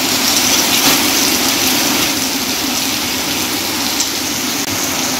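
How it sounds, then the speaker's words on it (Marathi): Rainwater gushes from a roof gutter during heavy monsoon rain in a village, a dense, steady roaring hiss of pouring water that holds even and loud throughout, with no voices. "हे बघा पन्हाळ्यातलं पाणी कसं येते बघा."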